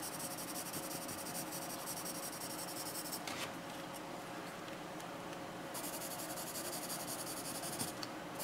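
Graphite pencils, a CaseMate and a Nataraj, scratching across paper in a steady soft scribble, close but quiet, with a hissy texture and no talking.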